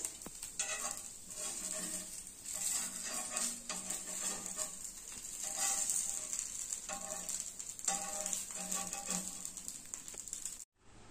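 Tomato rava dosa batter sizzling on a hot pan, a steady quiet frying hiss with soft scraping and stirring sounds throughout, ending abruptly, with no voices.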